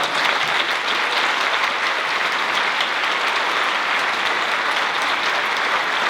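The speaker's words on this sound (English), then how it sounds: "We get a round of applause." A film festival audience at a Bong Joon-ho Q&A claps loudly and evenly for the film crew, a dense, close wall of applause holding steady throughout without any talk.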